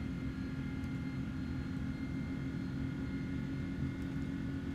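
An Airbus airliner in Microsoft Flight Simulator gives off a steady low engine drone and rumble with a faint high whine, constant and moderately quiet, with no talk.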